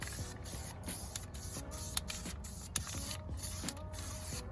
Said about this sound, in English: There you go, that's how you spray paint.